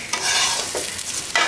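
Polao rice being stir-fried in a pan for beef tehari gives off a close, steady sizzle, broken by a few quick scraping strokes of a spatula; no one talks.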